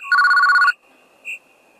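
A telephone rings indoors at night, one loud electronic ringtone burst followed by a quieter short blip, with no voices.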